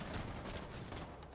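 Dense, steady gunfire in a shooter video game, a continuous rattle of rapid shots filling the whole moment at moderate, even loudness with no talk over it.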